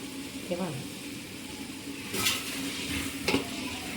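Masala and curd sautéing for veg biryani over a wood-fired stove, with steady soft sizzling and occasional stirring scrapes and utensil clinks, a voice talking faintly underneath.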